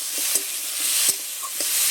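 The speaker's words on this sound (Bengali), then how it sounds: "টমেটোটা দিয়ে আমি আবারও বেশ ভালোভাবে নেড়ে চেড়ে নেব" Crab curry with tomato stirred in a pan: steady frying hiss with a few scraping strokes of the spoon, close and moderately loud.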